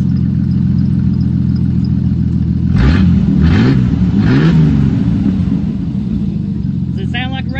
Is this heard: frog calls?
no